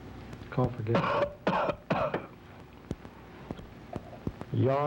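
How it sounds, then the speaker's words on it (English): A man coughs on request during a palato-pharyngeal function test, giving a few sharp, close coughs and throat clearings in a quick cluster, then a sparse tapping, with a brief voice at the end. "Cough again."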